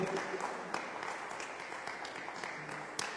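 A church congregation applauds its young artists with steady, moderately distant clapping, a soft, even patter that holds for a few seconds.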